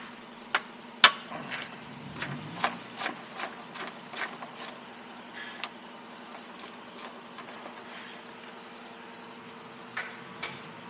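A ratchet working a 10mm bolt that holds the radiator of a 1997 Honda Civic, giving sharp metallic clicks and a run of quick ticking pawl sounds up close, then a few more clicks near the end.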